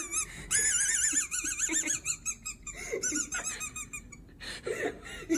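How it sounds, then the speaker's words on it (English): A squeaky dog toy swallowed by a dog gives repeated wavering, high-pitched squeaks in quick bursts, mixed with laughter and breathing nearby. "So he swallowed a squeaky dog toy"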